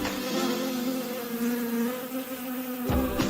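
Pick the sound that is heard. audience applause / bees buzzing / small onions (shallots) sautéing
bees buzzing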